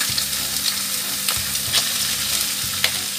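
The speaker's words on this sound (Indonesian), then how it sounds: "kita tumis sampai harum ya" Chili, garlic and ginger stir-fry in hot oil for a tofu dish, a steady close sizzle broken by repeated scraping stirs of a spatula against the pan.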